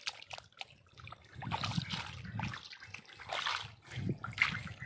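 Water splashes and trickles unevenly in surging bursts, close by and moderately loud, with no talking.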